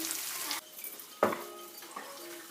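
Saag greens cook in a pan on a stove with a steady frying hiss, broken by one sharp utensil clank against the pan midway and lighter scraping afterward.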